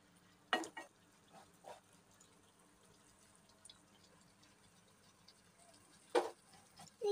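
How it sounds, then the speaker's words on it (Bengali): A spoon stirs local tomatoes in a pan for hilsa fish curry, making a few faint, brief scrapes and clinks over a quiet, low simmer, with long lulls between the strokes. "তো টমেটো দেওয়ার পর ঢাকনাটা খুলে একটু নেড়ে চেড়ে দেই।"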